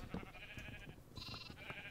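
Sheep in a pen in the video game Minecraft bleat faintly, with two or three short calls over low background noise and no speech.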